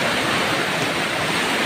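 Strong current of a flooded river in Camarines Norte, rushing water forming a loud, steady, broadband roar that stays continuous throughout with no voices.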